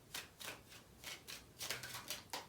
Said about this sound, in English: I'm going to shuffle 3 times.